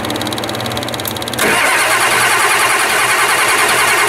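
Ford 7.3 IDI diesel engine starting for the first time on a new injection pump: starter cranking, then the engine catches partway through and runs with a loud, rough, clattering diesel idle close by.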